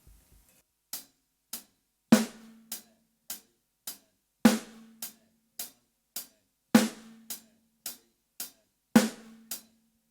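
A beginner drum beat of steady closed hi-hat ticks with a louder snare drum backbeat landing on 2 and 4, played alone at a moderate, even tempo with crisp, dry hits.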